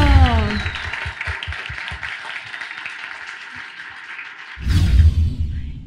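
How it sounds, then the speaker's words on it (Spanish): An audience applauding a speaker's introduction at a TEDed talk, with scattered claps thinning out before a fresh louder burst near the end. "¡Un aplauso!"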